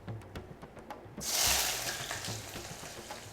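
Onions dropped into smoking-hot mustard oil for a desi chicken curry burst into a loud, bright sizzle partway through, after faint stirring clatter, then settle into a steady crackling fry.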